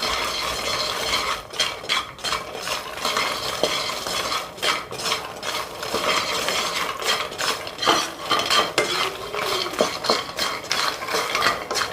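Lotus seeds are stirred in a pan to coat them in masala, with repeated scraping and rattling of a utensil against metal in an uneven rhythm, close and continuous.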